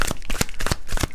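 Tarot cards riffled and shuffled by hand, with a string of close, crisp bursts of card flicks and slaps through a steady papery rustle as cards are worked out of a stiff deck.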